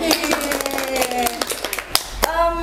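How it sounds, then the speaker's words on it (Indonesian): Scattered hand claps from an audience sound close and uneven, a few sharp separate claps rather than full applause, while a voice rings out over them. "Tepuk tangannya jangan ragu-ragu dong."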